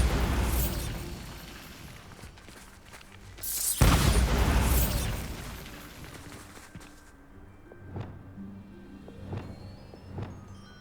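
A Bombarda blasting spell goes off in Hogwarts Legacy, a loud, close booming burst that rolls and fades over a few seconds amid game ambience, followed by a few softer pops and clicks.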